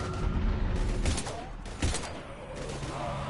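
Heavy gunfire in the video game Mass Effect 3 Legendary Edition: dense bursts of rapid shots, with a sharp loud report near the middle and sustained crackling fire before and after.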